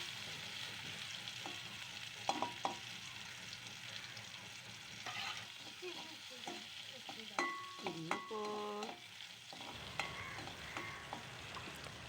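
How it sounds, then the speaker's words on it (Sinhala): Sausages frying in oil in a pan, a steady close sizzle with clinks and scrapes of stirring scattered through, no talking. "ඉතින් මුලින්ම අපි සොසේජස් ටික දාගන්නවා තෙල් එකට"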